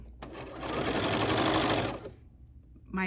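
A sewing machine stitches a bias piece onto blouse fabric in a steady rapid whir lasting about two seconds, then stops, leaving quiet room sound.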